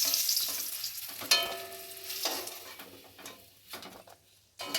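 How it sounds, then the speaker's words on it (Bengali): Eggs fry in hot oil in a pan for a Bengali egg curry, giving a steady sizzle with stirring and bursts of spattering, with short quieter gaps between. No one speaks. "ডিম দুটো লাল করে ভেজে নেবো"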